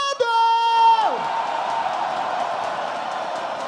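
A live rap battle audience at the grand final roars with cheers and whoops, a loud sustained crowd wash that swells after a brief tonal sweep and carries on without letup.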